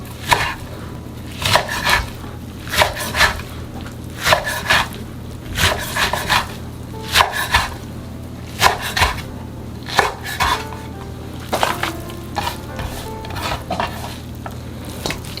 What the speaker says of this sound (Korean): 나물은 먹기 좋게 한 3-4cm 정도로 잘라주세요